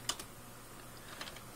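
Someone types on a computer keyboard, making a few faint, quick key clicks in two small bursts against a quiet background.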